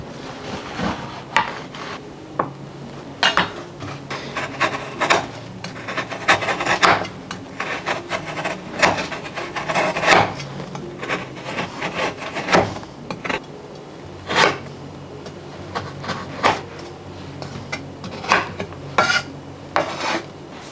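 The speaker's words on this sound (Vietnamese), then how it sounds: "chúng ta sẽ đi cắt nhỏ cái đường thốt nốt này ra thành những cái vụn" A knife chops and scrapes a block of palm sugar into small crumbs on a board, irregular crisp cutting strikes and rasping scrapes repeating up close, with no talking.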